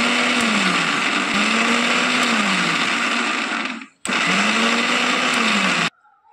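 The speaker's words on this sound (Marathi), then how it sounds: "आता याचे साल काढून आपण मिक्सरमधून बारीक काढून घेऊ" Mixer grinder purees boiled, peeled tomatoes in two loud whirring bursts, its motor whine rising and settling as the contents churn, broken by a brief pause and ending abruptly in near silence.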